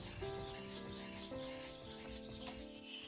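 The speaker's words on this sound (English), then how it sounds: "we have to flatten the whetstone" Japanese whetstone (toishi), soaked in water, is flattened by rubbing, giving a continuous close gritty scraping in steady back-and-forth strokes under a tonal background hum.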